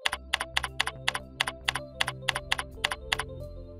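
Fingers type on a computer keyboard in a quick, steady run of about fifteen close, crisp key clicks heard alone, with no talking.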